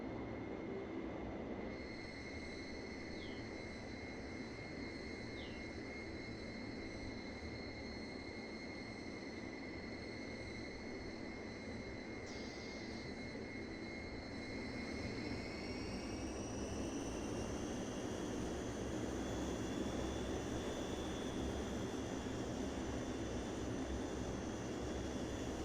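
Twin turboprop engines of an Airwork F27 taxiing in Microsoft Flight Simulator 2020 drone loudly and continuously, with high whining tones that rise in pitch partway through; no voices.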